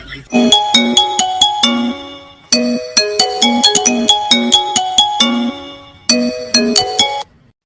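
A mobile phone ringtone plays loudly in bursts of bright, repeating melodic tones, each phrase separated by short pauses, with a voice speaking briefly alongside.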